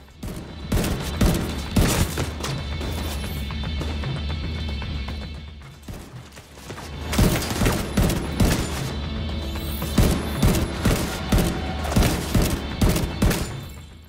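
Rifle gunfire in the video game The Division 2, with rapid bursts of loud, close shots firing in dense volleys, pausing briefly and then resuming in repeated sharp cracks.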